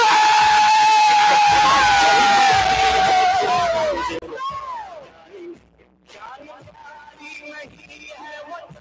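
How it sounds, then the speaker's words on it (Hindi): A large crowd roars and cheers with whoops and screams for a speaker's entrance at a gathering in Abu Dhabi, loud and sustained for about four seconds before cutting off into quieter shouts and talk. "जोरदार शोर के साथ, जोरदार तालियों के साथ"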